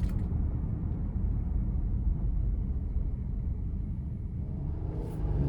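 A 2026 Nissan Pathfinder Platinum 4WD pulls away from a stop with a steady, low engine rumble and road noise heard from inside the cabin, smooth and unchanging with no talking.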